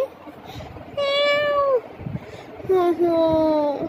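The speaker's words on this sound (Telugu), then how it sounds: "మితు పిల్లి" A cat meows twice, close and clear, each call drawn out and sliding slightly downward in pitch.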